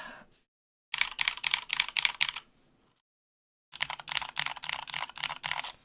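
Two bursts of rapid, clacky typing on a Cooler Master gaming mechanical keyboard, close and crisp, separated by a short silence.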